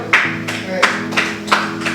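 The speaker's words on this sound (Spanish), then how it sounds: "Un aplauso al Señor" A church congregation claps for the Lord in a sermon setting, a few loud, evenly spaced claps ringing out over a held musical tone.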